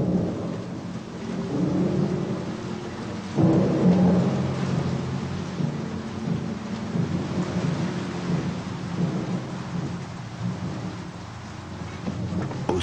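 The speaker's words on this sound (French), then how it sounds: "la pluie tombe sur la grande forêt tropicale humide. Les éléments se déchaînent. L'orage plus la guerre créent une ambiance d'apocalypse." Heavy rain pouring over a tropical rainforest during a thunderstorm, a dense continuous hiss with low rolling thunder rumbling throughout and a stronger crack of thunder partway through.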